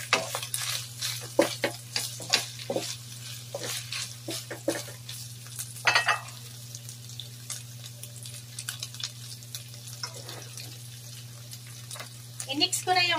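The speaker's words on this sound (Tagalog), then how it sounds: "Igisa-gisa lang muna natin yan" Stirring and sautéing in a pan while cooking pancit guisado, with intermittent scraping clicks and a soft steady sizzle under a constant low hum, some faint talk in the background.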